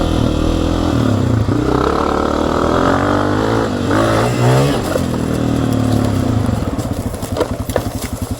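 A Honda CRF250F dirt bike engine revs loud and close in third gear on the run-up to a jump, holding a steady strained drone that rises and falls, then breaks into a rapid choppy putter toward the end.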